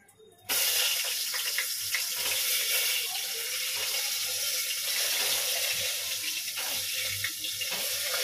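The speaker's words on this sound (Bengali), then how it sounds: "আগে আমি আলুটা ভেজে নেব, একটু হালকা করে আলু ভেজে নেব" Potato pieces hit hot oil for a mutton curry meal, and a sudden hissing sizzle bursts in almost at once, then holds steady and fairly loud to the end.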